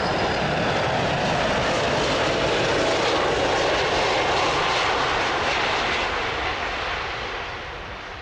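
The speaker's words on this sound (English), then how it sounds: "Atlas Air Boeing 747-400 bounces, hard on landing in clear skies." Atlas Air Boeing 747-400 landing hard in clear skies, a loud, continuous roar of jet engines heard from outside, broad and steady before slowly easing off toward the end.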